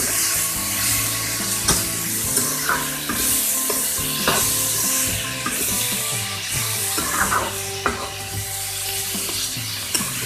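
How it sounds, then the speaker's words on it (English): Capsicum and mixed vegetables sizzle steadily in a pan while a spoon stirs them, with repeated scraping strokes and clinks at an irregular rhythm, close and fairly loud, with no voices. "I will give everything a good mix"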